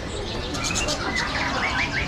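Caged birds at an Indonesian bird market chirp and tweet in quick repeated calls over a steady wash of crowd and market noise, with a few soft coos and wing flutters mixed in.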